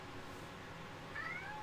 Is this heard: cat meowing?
yes